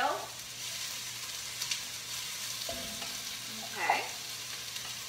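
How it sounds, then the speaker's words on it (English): Onions sizzle steadily in olive oil in a cast iron pan, a soft, constant frying hiss with occasional stirring, while a voice speaks briefly nearby. "I'm just going to dump these onions in that with a little bit of the oil."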